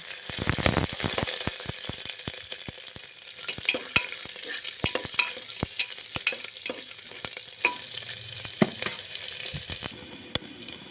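Coconut pieces and peanuts frying together in a pan with ginger for khichdi, a continuous near sizzle broken by many sharp spatula scrapes and clinks, with no voices.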